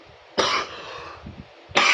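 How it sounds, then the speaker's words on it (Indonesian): A single dry cough bursts out, followed by a quieter breathy stretch with faint throat noises, then a second cough starts right at the end, close and clear in a quiet room. "sebelumnya saya lagi batuk ya"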